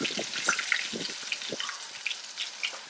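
Mustard seeds, curry leaves and coriander powder frying in hot oil, with scattered crackles and spitting pops over a light sizzle, fairly quiet and close, no talk.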